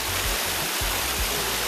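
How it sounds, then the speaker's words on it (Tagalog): Waterfall at a nature resort in Laguna, water pouring down in a loud, constant broadband rush with low thumping splashes close by and no voices. "Talagang nakifeel mo yung pagbagsak ng tubig sa ulo mo, which is very relaxing"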